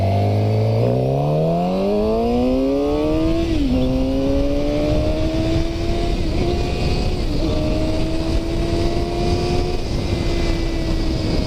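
750 motorcycle engine revving up through tall gears, pitch climbing sharply then settling after a shift into a sustained high drone, loud and close with wind rush.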